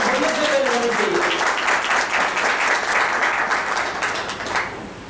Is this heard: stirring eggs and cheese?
no